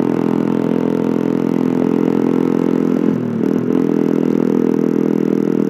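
A Honda CB motorcycle engine runs while riding, a loud, close, steady hum with a brief dip and recovery partway through, alone without talk.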